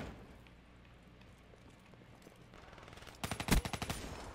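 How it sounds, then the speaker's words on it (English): A machine pistol in Black Ops 3 rips off a quick rapid burst of about a dozen sharp shots near the end, after a quiet stretch of low game ambience. "That guy's using like a freaking machine pistol or something."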